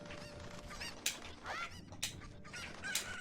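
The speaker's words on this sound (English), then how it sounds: "I'm going to use the other one to grab another cuckoo that can only be acquired using the fabled chicken gliding technique" A cuckoo, the chicken of Zelda Ocarina of Time, gives repeated short clucks and squawks in quick succession over busy game background sounds.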